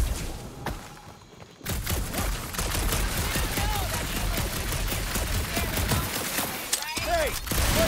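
Rapid, continuous gunfire in the video game Guardians of the Galaxy, a dense, loud barrage of shots with bursts and thuds that fills almost the whole stretch, with voices occasionally talking underneath.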